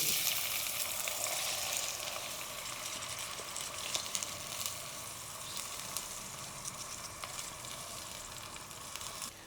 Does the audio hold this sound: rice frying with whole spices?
yes